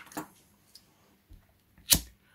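A lighter struck during fly tying for a Muddler Minnow: two sharp flick-and-ignition bursts, one at the start and a louder one near the end, with a faint click between them in an otherwise quiet room.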